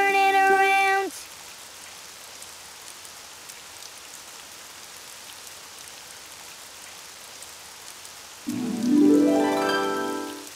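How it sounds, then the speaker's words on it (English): Rain falls outside as a steady, even hiss through most of the stretch, framed by brief tonal sounds at the start and the end. "Oh, it's raining outside."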